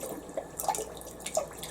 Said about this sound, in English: The water's splattering all over the place, piddling out now.